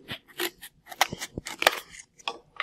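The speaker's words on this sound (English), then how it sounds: "This is exactly what happens when you use a scissor to cut a piece of cardboard." Scissors snipping through a piece of cardboard, a series of short crisp cuts and crunches at close range, uneven in rhythm and fairly quiet.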